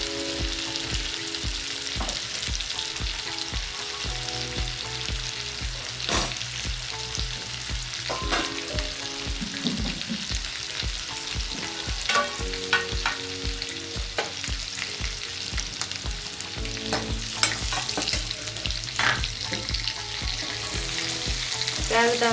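Asafoetida sizzles in hot oil for a Maharashtrian besan pithla, giving a steady crackling fry with occasional stirring clinks throughout, close and continuous with no talking.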